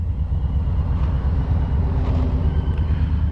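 Motorcycle riding on an early-season ride after the snow melt, with a steady low engine drone and heavy wind rush over the microphone throughout, no talking.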